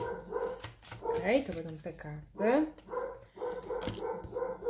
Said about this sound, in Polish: Przepraszam za szczekanie pieska.